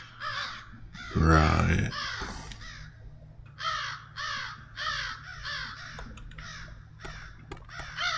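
Crows cawing inside a wrecked hotel room in a video game, repeated harsh caws in a steady series across the whole stretch, fairly close, with a brief word of speech near the start over a low hum.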